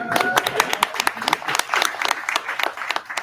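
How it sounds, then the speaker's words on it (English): Audience clapping at a sold-out business event on AI in the EU, a brief burst of dense, sharp claps close by, steady throughout with no talk over it. "we can get some claps for this"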